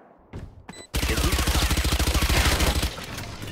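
In Valorant, a few faint clicks give way to a loud, close burst of automatic gunfire, about fifteen evenly spaced shots in a steady rhythm lasting around two seconds before fading into background noise.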